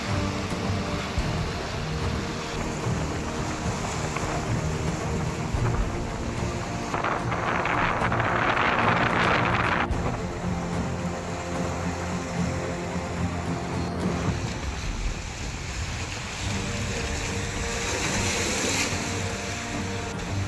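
Huge sea waves crash on tall black rocks beyond Gorai beach, a loud continuous surging roar with heavy wind buffeting the microphone and swelling bursts of surf.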